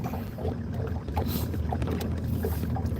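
Fishing boat motor idling on the water, a steady low rumble with wind and faint water splashes, close and continuous.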